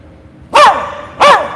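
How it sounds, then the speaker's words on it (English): A dog gives two loud, close barks, evenly spaced less than a second apart, each a short sharp burst with a brief tail, during a live golf show performance. "He wants to bark 14 times."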